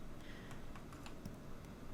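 A computer keyboard is tapped for Blender 3D modeling shortcuts, with soft, scattered clicks that are quiet and faint over a steady background hiss.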